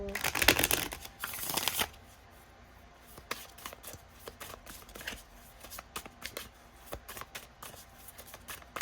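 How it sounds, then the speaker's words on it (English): A quick riffle of cards shuffling loudly at the start, followed by softer taps and handling sounds of cards being squared and set down. "One more shuffle."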